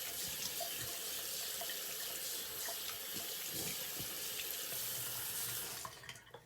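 Tap water runs steadily into a sink as a razor is rinsed mid-shave, a constant close splashing stream that stops near the end, with no voices.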